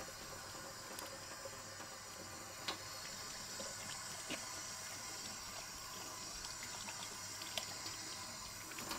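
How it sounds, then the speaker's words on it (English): Tap water runs steadily as hands are washed at a workshop sink, a constant faint hiss with occasional small splashes and clicks, and no talking. "Give my hands a quick wash."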